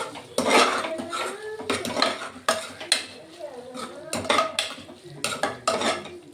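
A spoon stirs and mixes a mildly spiced dish in a cooking pot, giving close, uneven bursts of scraping and clinking metal against metal with short pauses between strokes.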